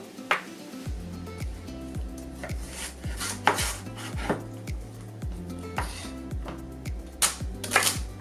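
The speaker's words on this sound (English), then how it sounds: "So I'm just chopping up about 3 sticks of celery." A knife chops celery sticks rhythmically on a cutting board, quick repeated thuds with occasional sharper knocks, close and fairly loud, no talking.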